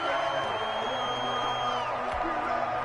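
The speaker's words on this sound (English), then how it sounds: "The crowd's not doing that O-line any favors. Home field advantage is really kicking in" Stadium crowd roar in an American football video game, home crowd noise during a Buccaneers versus Rams matchup: a steady, dense wash of distant cheering and voices with a faint whistle-like tone, continuous throughout.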